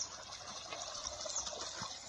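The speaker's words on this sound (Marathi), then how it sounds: "हे पण पाणी चालू आहे यांच्यावर" Irrigation water runs steadily over a vegetable plot planted with garlic, a soft continuous outdoor rush and trickle close by, with no talking.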